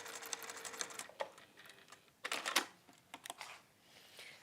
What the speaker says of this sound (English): I'm going to top stitch across the top.